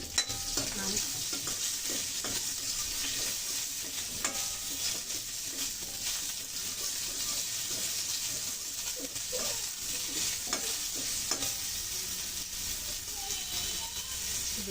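Black mustard seeds crackle and spit in hot oil, tempering for a sour Bengali dish, a dense continuous sizzle with scattered pops and faint stirring close at hand, no voice over it.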